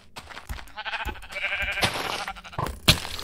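Sheep bleating in the video game Minecraft, a few wavering bleats in a cluttered mix of game sounds, with a sharp hit near the end.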